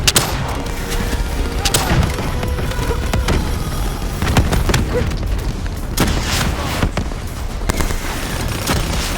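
Dense, continuous gunfire and booming blasts fill a Call of Duty: Black Ops 3 campaign battle, with overlapping shots and explosions rolling steadily throughout.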